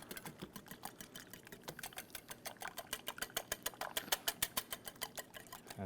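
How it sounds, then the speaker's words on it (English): Eggs and sugar are whisked in a bowl for a chocolate lava cake, a fast steady rhythm of clicking whisk strokes against the bowl, close and fairly quiet, with no talk. "So just whisking it together."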